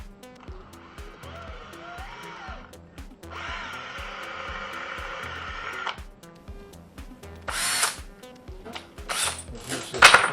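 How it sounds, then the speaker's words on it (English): A power drill fitted with a stepper bit bores into a plastic Darth Vader helmet, whirring in several bursts with rising and falling pitch. Each burst is close and fairly loud, and harsh grinding comes near the end. "try to drill this the best I can."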